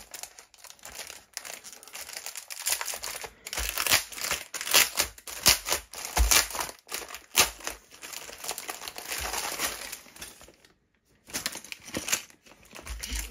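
A LEGO Minecraft blind bag is torn open and handled, giving repeated crinkling and ripping of plastic foil in irregular bursts with brief pauses, close and fairly loud.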